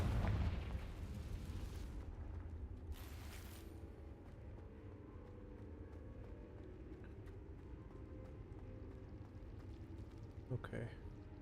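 A Confringo fire spell explodes in the video game Hogwarts Legacy: a loud, broad boom with a rumbling tail, a second burst a moment later, then a low sustained roar as a voice talks over the game sounds.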